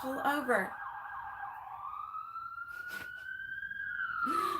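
An emergency vehicle siren wails loudly and close by, one long rising-and-falling tone with a brief voice at the start and another at the end.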